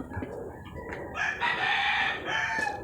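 A rooster crows loudly nearby while chickens cluck around it, the crow stretching across most of the clip.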